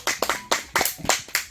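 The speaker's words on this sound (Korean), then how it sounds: "박수." An audience at a smartphone and AI education class claps briefly, a quick burst of several separate sharp hand claps close by.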